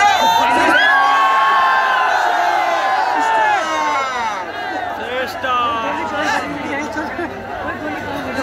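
A large crowd at a fan meetup in Gurugram cheers and shouts loudly, with whoops and overlapping voices that swell at first and then settle into a sustained roar of chatter.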